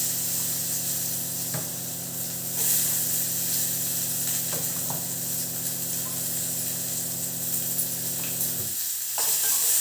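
Onions frying in a pan, a steady close sizzle that runs throughout with occasional stirring scrapes, fading out near the end.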